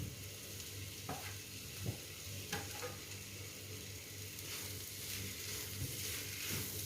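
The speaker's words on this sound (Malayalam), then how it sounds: "നമുക്കിതിലേക്ക് ഫ്രൈ ചെയ്ത് വെച്ചിരിക്കുന്ന സോസേജ് ചേർത്ത് കൊടുക്കാം." Fried chicken sausage being stirred into a spice masala in a pan, with a soft continuous sizzle and occasional scraping stir strokes, fairly quiet and close.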